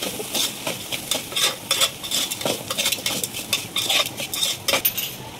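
A metal spoon stirs coriander powder and garam masala into soya biryani in a pot, with a continuous busy scraping and clinking of utensil against cookware and a faint sizzle underneath, loud and close, no talking.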